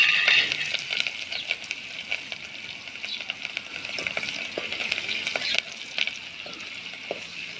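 Cumin seeds and green chillies crackle and sizzle in hot oil for a village-style kadhi tempering, a loud, busy spitting with frequent sharp pops, close by.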